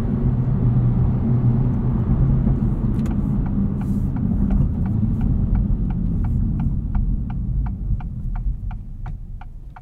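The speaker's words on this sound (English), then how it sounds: "It still has Type R roots, engine, powertrain, everything's a little bit buzzy, but that's okay." Low buzzy engine and road drone from a 2024 Acura Integra Type S on an early morning drive, steady cabin hum with a quiet regular ticking, like a turn signal, joining partway through, no talk.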